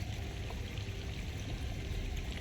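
Water runs steadily from sinks in an Icarus video game mod, a continuous pouring stream with no breaks and no talking.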